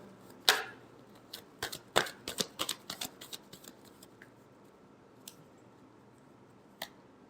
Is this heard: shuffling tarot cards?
yes